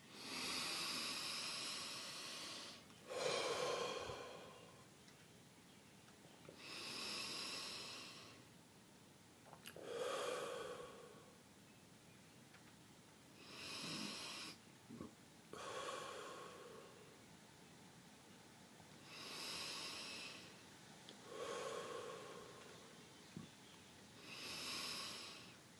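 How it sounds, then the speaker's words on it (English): Slow, deep meditative breathing, drawn in through the nose and released through the mouth, repeats in about seven even cycles, each a soft airy hiss close to the microphone, with quiet pauses between and no talking. "breathing in through your nose and then out through your mouth"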